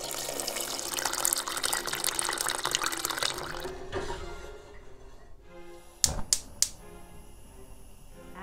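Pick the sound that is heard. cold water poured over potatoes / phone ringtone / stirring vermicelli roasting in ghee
cold water poured over potatoes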